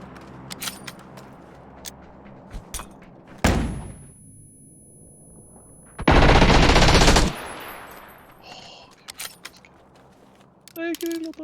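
Video game gunfire, with scattered sharp shots, a loud burst and then a dense sustained volley of rapid automatic fire lasting about a second, among other clattering game sounds.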